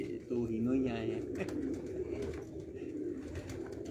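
Sialkoti pigeons coo in a breeder's loft, with low, rolling calls rising and falling steadily for several seconds while someone talks nearby.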